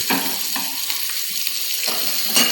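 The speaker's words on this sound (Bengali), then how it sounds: "কড়াইতে তেল গরম করে আমি এই কেটে রাখা গাজর এবং বিনসগুলো কিন্তু 2 মিনিট হাই ফ্লেমে এটাকে কিন্তু ভেজে নেব" A steady hiss of chopped carrots and beans frying in hot oil over high flame, with a few scraping stirs against the pan.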